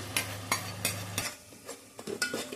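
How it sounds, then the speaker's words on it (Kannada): Cinnamon, cloves and Guntur chillies are stirred in a hot pan, with a spoon scraping in quick regular strokes over a soft sizzle, close and moderately loud. "ಚಕ್ಕೆ, ಲವಂಗ, ಗುಂಟೂರು ಮೆಣಸಿನ್ಕಾಯಿ ಇದೆಲ್ಲನೂ ಇವಾಗ ಹಾಕೋತಾ ಇದ್ದೀನಿ."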